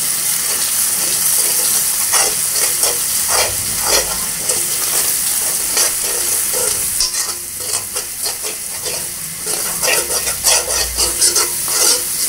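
Onions stir-fried with soaked ingredients for chicken gravy sizzle steadily in a pan, with a bright continuous hiss and repeated scraping stir strokes up close.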